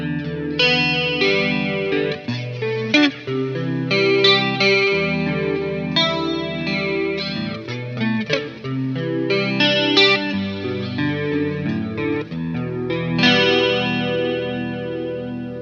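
An 80s-style clean electric guitar, run through AmpliTube 5 with digital reverb and a light chorus shimmer, plays a continuous flowing chord and arpeggio passage, lush and sustained for about fifteen seconds with no speech.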